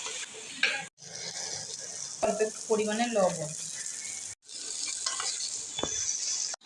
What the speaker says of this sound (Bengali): এখন ওই একই তেলের মধ্যে দিয়ে দিচ্ছি বেগুন